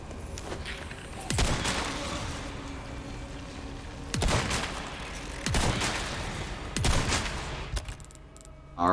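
Shotgun blasts in Resident Evil 4 at Castle Salazar, about five heavy booming shots at irregular intervals of a second or more, loud and up close over a steady rumbling game background.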